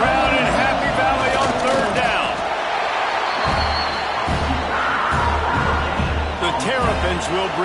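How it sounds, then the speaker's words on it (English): A big college football stadium crowd at Happy Valley roars on third down, a dense, loud, sustained wall of cheering and noise with a broadcast commentator talking over it. "Here comes the noise from this big crowd in Happy Valley on third down."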